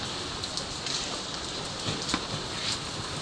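Steady rain pours with gusty wind during a storm strong enough to topple avocado and guava trees, a dense continuous hiss with scattered drip and tap accents, moderately quiet and without voices.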